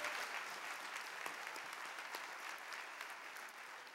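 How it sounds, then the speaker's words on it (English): Graduates and guests at the Champlain College 2013 commencement applaud steadily, a dense, even wash of many hands clapping close by with no one speaking over it. "you can applaud that."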